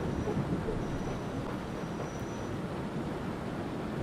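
A subway train runs along the tracks in the World of Subways 4 simulation, a steady broadband rumble of wheels and carriage noise holding constant and fairly loud throughout, with no voices.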